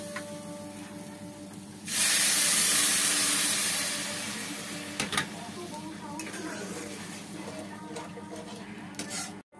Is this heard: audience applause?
no